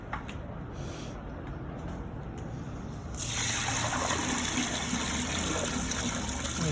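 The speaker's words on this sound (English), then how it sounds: "Go ahead and pour some more there." Garum fish sauce liquid is poured in a steady trickle that swells into a fuller, louder gush partway through, with no talk over it.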